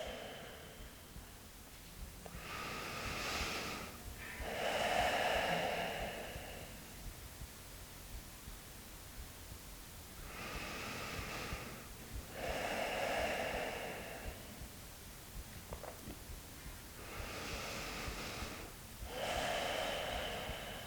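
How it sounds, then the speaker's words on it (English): Slow, smooth breathing during a pause in a yoga shoulder-opening session, with about five soft, even inhale-exhale cycles, each a few seconds long, close to the microphone over a faint hiss and with no talking. "I'm just going to pause for about 5 smooth breaths."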